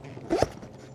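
A slightly tight zipper on a fabric rooftop tent is pulled in one short, close, scratchy zip lasting under half a second, with quiet surroundings before and after.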